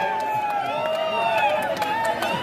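A crowd roars and cheers at the final of a kabaddi tournament, Bhairavnath of Pune against Sparsh of Mumbai Upnagar at Youngstar Chashak 2025. The cheering is a steady wash of voices with whistle-like shouts, and a commentator talks over it.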